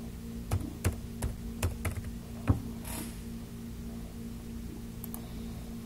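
Typing on a computer keyboard while entering transaction details in training software, a short run of separate key clicks at an uneven pace that stops after a few seconds and is heard alone.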